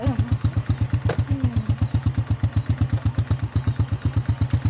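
An old motorcycle engine idling while it warms up, with a steady, rapid, even chugging pulse that is close and clear throughout.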